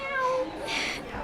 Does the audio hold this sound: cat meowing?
yes